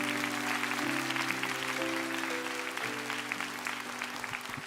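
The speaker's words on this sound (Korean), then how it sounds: "큰 박수로 축복해 주시면 좋겠습니다" Congregation in a Korean church applauding to bless a young man invited to the stage: a dense, steady wash of clapping from many hands, with sustained organ-like tones holding underneath throughout.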